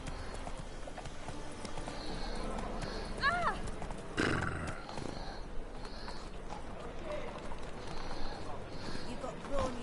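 Hooves of the horse Roach clip-clop steadily in The Witcher 3, a brisk galloping rhythm with a short whinny partway through, under a man's speech and faint birdsong.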